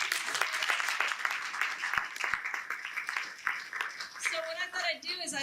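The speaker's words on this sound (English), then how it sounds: "round of applause for our cartoonists" An audience at the Rhode Island Comic Con NCS Quick Draw 2018 applauds cartoonists, with sustained clapping and a few sharp claps under a speaking voice that continues toward the end.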